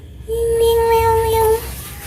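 A single sustained meow imitated by a person's voice, given as a playful cat-style high-five reward for a child, held steady for about a second and close to the microphone.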